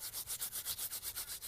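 Sharp sandy loam soil rubbed between fingers close up, giving a steady rhythmic gritty rasp of about eleven even strokes, quiet and alone.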